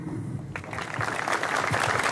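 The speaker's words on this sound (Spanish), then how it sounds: "Más fuertes sus aplausos, por favor." Audience applause at a mayor's inauguration ceremony in Santa Rita, starting quieter and swelling into fuller, louder clapping after the first half second, continuing steadily to the end.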